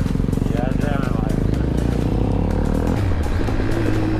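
A loud sport motorcycle fitted with an aftermarket exhaust revs and roars close by, its engine note rising and shifting as it pulls away, with riders' voices in the background.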